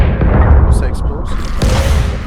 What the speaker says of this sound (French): Ça explose.